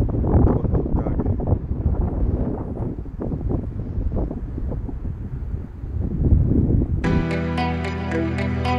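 Gusty wind buffets the microphone outdoors by a lake on a sunny, cold November afternoon, a loud continuous low rumble for about seven seconds before it cuts abruptly to a steady tonal sound.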